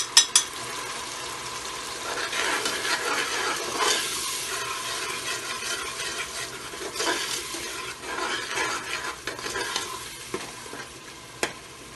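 Dry spices roasting in a pan for arvi gosht (taro root with meat), a steady sizzle and frying crackle with occasional stirring scrapes, close and moderately loud throughout, no voices.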